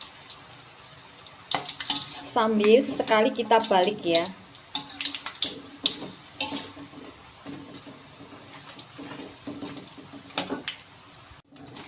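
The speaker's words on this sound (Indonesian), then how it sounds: "Kita goreng sampai berwarna coklat." Rempeyek peanut crackers fry in hot oil with a soft, steady sizzle and bubbling that runs beneath someone speaking Indonesian throughout.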